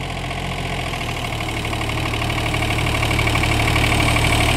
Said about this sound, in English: Do both motors reverse.